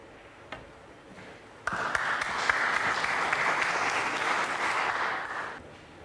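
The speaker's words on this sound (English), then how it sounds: "Crowd applause die down from the other side of the arena" Crowd applause from the far side of a snooker arena during a UK Championship match, a sudden steady burst of clapping that starts abruptly, holds for several seconds and then tails off.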